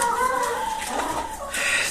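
Several chickens cluck and murmur nearby in short, uneven calls, with a soft background hum and brief rustling, on a rural farmstead.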